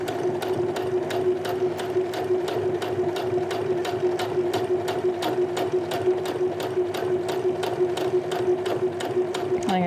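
A sewing machine stitches a gathered skirt waistband, running at a steady pace with rapid, evenly spaced needle clicks over a constant motor hum, close and uninterrupted, with no talk.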